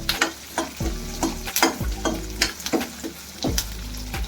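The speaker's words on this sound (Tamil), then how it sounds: "பூண்டும் போட்டு வதக்கலாம் ஒரு கைப்பிடி கருவேப்பிலை போட்டு நல்லா வதக்கிக்கலாம்" Garlic and a handful of curry leaves sauté for a mutton head curry, a crackling sizzle broken by several sharp stirring scrapes and ladle knocks against the pan, close and loud, with no voice.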